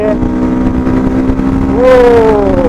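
A motorcycle engine runs during a group morning ride, a steady loud drone that rises in pitch near the end as the bike accelerates, close by with no clear talk.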